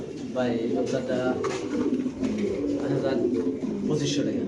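Pigeons cooing at a busy pigeon market, soft repeated throaty coos from several birds close by, mixed under ongoing conversation among people.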